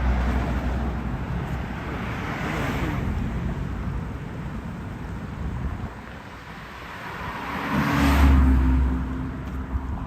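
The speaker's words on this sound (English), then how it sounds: "there were a lot of engines on that boat" Several go-fast boat engines on a powerboat rumble past near a Fort Lauderdale beach walkway, a low steady drone that swells to a loud peak and then fades, with wind noise throughout.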